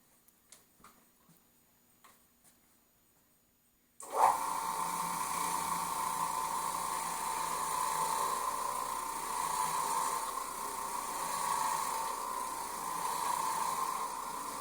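An Oreck Orbiter floor machine fitted with a black brush starts up after a few seconds of quiet clicks, then runs with a steady, loud whirring drone as it scrubs carpet.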